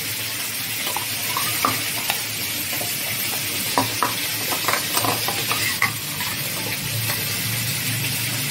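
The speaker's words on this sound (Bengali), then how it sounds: "মাছগুলো আমি ভেজে নিচ্ছি।" Tilapia fish pieces fry in oil in a kitchen, giving a continuous loud sizzle broken by irregular clinks and scrapes from stirring, with no one speaking.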